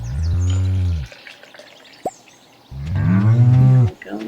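Cattle in the farming game Stardew Valley give two long, loud moos about two seconds apart, separated by a short plop, with no voices.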